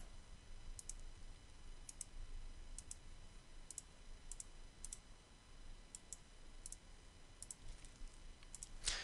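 A computer mouse gives a series of small, sharp clicks, some single and some in quick pairs, spaced irregularly over faint room noise.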